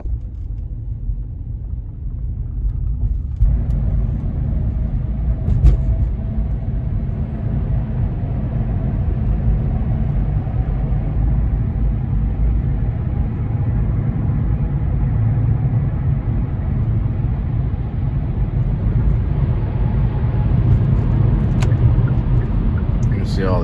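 Road traffic near the Hewlett Mall area, a steady low rumble of passing cars heard continuously at close range, with an even hum throughout and no clear breaks.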